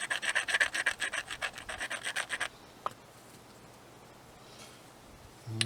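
A knapped stone flake has its edge ground with rapid rhythmic rasping strokes for about two and a half seconds, close and fairly loud, followed by near quiet with a faint tap.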